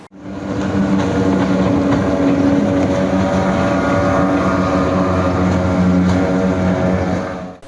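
A tourist speedboat on the water at a river attraction in Ogan Ilir, Indonesia, drones with a loud, steady engine roar and rushing hull noise that holds constant throughout.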